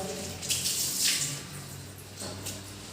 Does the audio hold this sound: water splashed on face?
yes